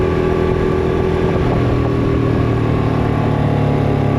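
A Kove 450 Rally motorcycle engine with an aftermarket exhaust idles steadily and loud up close, a constant mechanical drone with no throttle blips and no talk.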